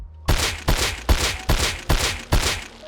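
Semi-automatic SAR rifle in the Rust video game tap-fired six times in an even rhythm, each loud, close shot carrying a metallic ping at its tail, with no other sounds between.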